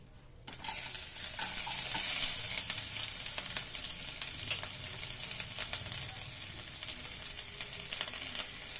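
Chopped onions drop into hot oil and fry with a steady sizzle, with faint stirring and scraping under the crackle throughout, close and without talk.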